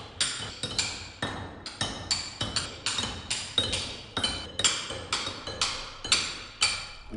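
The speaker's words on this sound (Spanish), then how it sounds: "su primera tarea es alisar las 6 superficies con herramientas manuales" A hand tool striking a rough, irregular block of stone to smooth its faces. Sharp clinking blows come in a steady, uneven rhythm, close and clear, with no voices.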